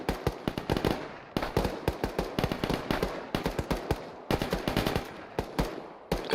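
Sustained automatic rifle fire in the military game Arma during infantry training, rapid bursts of loud, close shots repeating steadily with brief gaps between volleys, no talking.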